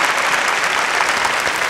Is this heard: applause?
yes